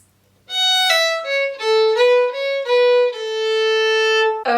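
A solo fiddle plays the closing phrase of the A part of the Scottish jig A Hundred Pipers, a run of clear sustained bowed notes stepping downward in a lively rhythm, close and loud, with no talking.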